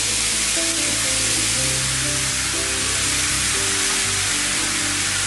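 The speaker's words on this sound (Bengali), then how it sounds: "আমি আরেকটি প্যানে একটু তেল দিয়ে মশলাটা কষিয়ে নেব।" Spices sizzle in hot oil in a pan for a Bangladeshi hotel-style mixed vegetable dish, a loud, steady, close frying hiss throughout.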